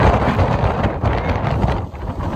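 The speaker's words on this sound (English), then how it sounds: "It's gotten foggy and windy in the last 5 seconds" Steady, blustery wind on foggy Hunter Mountain in the Catskills buffets the microphone throughout, a dense low rumble with gusty rises and falls and no voices.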